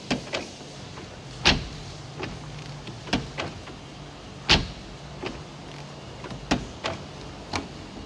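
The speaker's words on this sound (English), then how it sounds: "Upon unlocking the car, the windows will dip down a little bit to clear the door frame." A 2013 BMW 640i Gran Coupe M Sport is unlocked and its frameless windows dip slightly. A sequence of sharp clicks and brief motor whirs is heard close up in a quiet setting.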